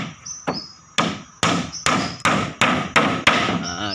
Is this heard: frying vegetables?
no